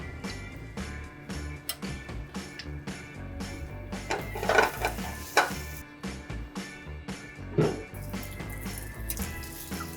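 Pasta pieces for ricotta cavatelli tossed into a pan with toasted garlic and shallots, giving a steady close sizzle with repeated sharp clacks and scrapes of utensils against the pan.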